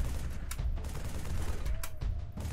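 Gunfire in the video game Halo 3: ODST, a dense, continuous game soundtrack with several sharp shot bursts spread over a constant rumbling backdrop.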